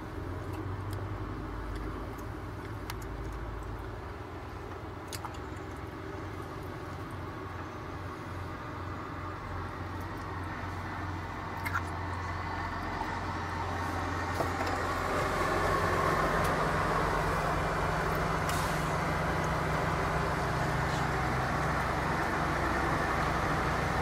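A truck with loud exhaust pipes passes on a highway, its low engine roar and rushing road noise swelling gradually over steady traffic hum heard from inside a moving vehicle.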